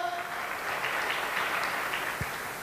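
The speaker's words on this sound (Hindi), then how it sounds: "तो जोरदार तालियां दोस्तों हमारे ऐसे ग्रेट मेंटर के लिए।" An audience applauds a mentor at a motivational business gathering, with dense, even clapping at moderate level throughout and no speech over it.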